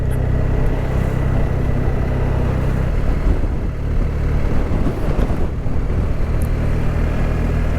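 A motorcycle rides along mountain roads in the Spanish Pyrenees, with a steady engine drone mixed with heavy wind rush throughout.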